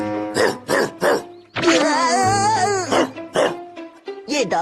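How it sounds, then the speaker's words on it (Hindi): A cartoon dog in a Doraemon episode barks in loud, sharp, repeated yaps, broken by a stretch of drawn-out whining and yelping, close and punchy throughout. "ये डॉगी हमेशा मुझ पर भौंकता है।"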